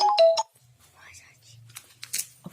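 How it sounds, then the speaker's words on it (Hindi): A brief electronic phone ringtone chimes loudly in the first half second during an online class session, followed by faint background voices and soft rustling. "फोन आएगा इसमें दोबारा।"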